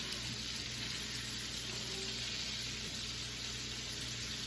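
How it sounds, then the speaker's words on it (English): Chicken pieces, some skinless, fry and brown in a pan, giving a constant, even sizzle with a low background hum. No voices. "I'm just going to let it fry and brown on both sides"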